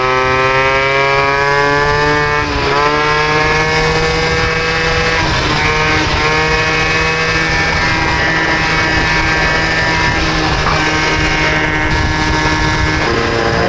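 A moped fitted with a Polini engine, Athena parts and MVT ignition screams along at speed, its loud, high-pitched two-stroke whine holding steady and shifting pitch with throttle changes throughout.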